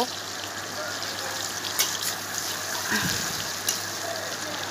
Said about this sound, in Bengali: এখানে আমি পেঁয়াজ দিয়ে দিচ্ছি পেঁয়াজটা একটু বাদামি করে ভেজে নেব